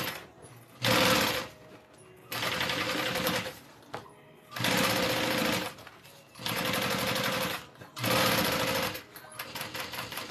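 Sewing machine top stitching a bag in four loud bursts of rapid mechanical clatter, each lasting a second or two, with short quiet pauses between them, heard close up.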